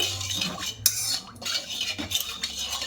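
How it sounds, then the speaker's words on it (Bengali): Spoon stirring gelatin powder and sugar together in a bowl for a Bengali sago pudding, a quiet series of scraping, clinking strokes with brief pauses between them. "এবার দিয়ে ভালো করে মিশিয়ে নেব"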